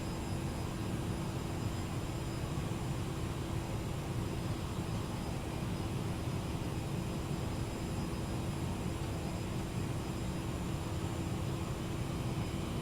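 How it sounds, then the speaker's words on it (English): A jet airliner engine roars steadily during takeoff in a flight simulator, a constant broadband rumble with a faint tonal whine and no talking. "Continental 101, you're clear for takeoff."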